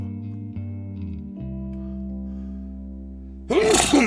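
A low hum runs through the clip, then one sudden, loud sneeze bursts out near the end.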